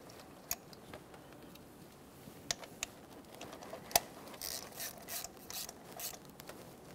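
Ratchet clicks and metallic mechanism sounds while a spark plug is torqued down on a 2010-2013 Kia Forte Koup 2.4L four-cylinder, with scattered sharp ticks followed by a faster run of quiet ratcheting near the end.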